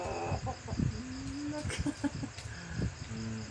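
A fighting rooster that has just won a cockfight clucks and makes short throaty calls several times, close by, with faint ambient noise and little talk.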